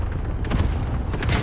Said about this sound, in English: Allied cluster strike arrived.